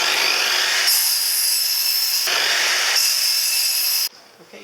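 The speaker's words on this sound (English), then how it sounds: "because I'm cutting a whole bunch of pieces to the same size, I've actually clamped 5 of these together" A saw cuts through five clamped wood pieces for a camper van bench, loud and close, in long harsh rasping strokes with brief pauses before stopping abruptly near the end.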